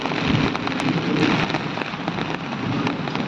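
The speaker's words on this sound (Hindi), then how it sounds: "देख सकै छी आवाज गरज रहल अइ आ अंधाधुन जे है से बरस रहल अइ" Heavy monsoon rain pours down hard on a rooftop in Mithila, a dense, steady, close hiss broken by faint crackles of thunder.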